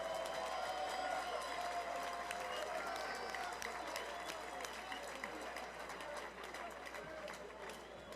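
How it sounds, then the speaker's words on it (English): Audience applause at a ballroom boxing event, a steady crowd clapping for both boxers across the whole stretch, with crowd murmur mixed in. "how about a fine round of applause for both boxers?"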